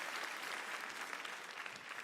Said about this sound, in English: y'all, you guys really, really do love to clap, don't you?